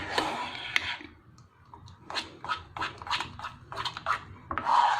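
Homemade glue is stirred in a pot just after the gas is turned off. A series of rhythmic scraping and rubbing strokes sounds close and moderately loud, with no talking.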